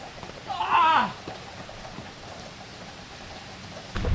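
Heavy rain falls during Hurricane Debby, a steady dense hiss of wind-driven downpour continuing throughout, with a brief shout rising over it early on.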